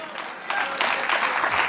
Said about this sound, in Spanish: Denle ofrenda de palmas al Señor.